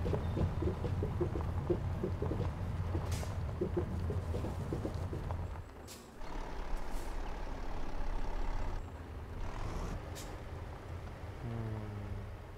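Truck in Euro Truck Simulator 2, descending a hill on the ProMods Kirkenes mine road, rumbles with steady engine and road noise, with air brake hisses standing out.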